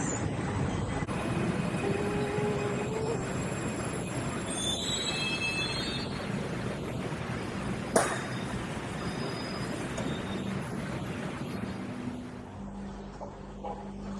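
A Jakarta LRT light rail train rolls along steadily with a continuous rumble, faint metallic squeals and tones, and a brief clunk midway before the noise eases.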